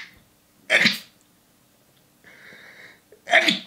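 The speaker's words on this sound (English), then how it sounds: "I'll sneeze" Two loud, close sneezes burst out a few seconds apart, with a brief mid-pitched vocal hum or whine between them and near silence around them.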